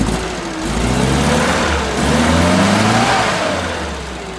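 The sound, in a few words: Innocenti car with twin carburetors idling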